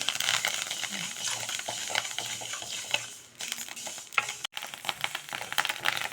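Ragi grains dry roast in a pan, rattling and scraping under constant stirring, with a dense, close texture that briefly thins and dips partway through before resuming.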